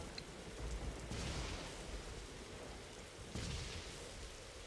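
Thunder rumbles in the Roblox survival game Disaster Island over steady rain noise, with two swelling crashes of lightning strikes, moderately loud and with no voices.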